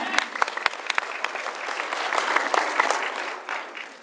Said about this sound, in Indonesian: Kita beri tepuk tangan dulu untuk produk Elkin Spirulina.